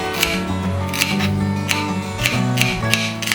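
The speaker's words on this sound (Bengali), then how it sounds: "পেঁয়াজটা কুচিয়ে নিচ্ছি।" An onion being finely chopped with a knife on a board for egg paratha: quick, sharp, fairly regular blade taps over steady background music.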